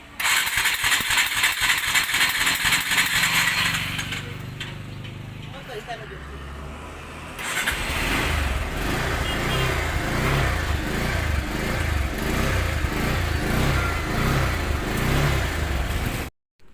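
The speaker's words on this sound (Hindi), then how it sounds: "तो ऐसा करने के बाद आपको गाड़ी स्टार्ट कर लेना है" A kickless motorcycle with a compressor problem is started and runs with a rough, rattling idle, engine note rising and falling close by, with a brief dip in the middle and someone talking over it.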